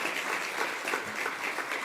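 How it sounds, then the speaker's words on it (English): Audience applause at a women-in-leadership breakfast event, a steady moderate patter of many hands clapping in a room, fairly distant and even. "So please give them a round of applause."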